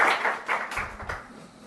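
Scattered applause in a classroom at a teacher-run quiz game modeled on Kaun Banega Crorepati, a few loose bursts of clapping that are fairly faint and fade after about a second.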